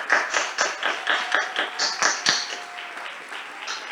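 Church congregation on their feet clapping for pastors, a steady rhythmic run of close claps with no voices, thinning slightly toward the end.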